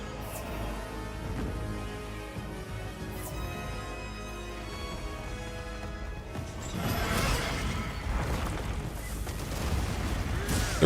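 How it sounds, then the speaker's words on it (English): Rumbling blasts and crashing impacts from enormous explosions in Monster Hunter Wilds, a steady low roar under game music that erupts into louder, denser bursts in the second half. "Because those explosions are enormous."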